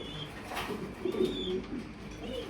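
Pigeons kept for sale coo in soft, low, throaty rolls, close by and moderately loud, with a faint rustle in the background.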